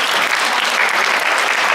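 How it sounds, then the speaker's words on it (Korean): A live audience gives a continuous burst of applause as the panelists of an urban and cultural regeneration forum walk up to the stage, dense and even throughout. "박수로 모시겠습니다"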